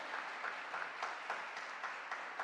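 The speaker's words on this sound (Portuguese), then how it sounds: "aplauda de verdade, aplauda de verdade." A church congregation applauds during a Portuguese-language service, with steady, moderately loud clapping filling the whole stretch alone, no voice over it.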